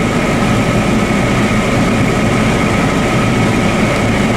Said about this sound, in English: There's the tractor.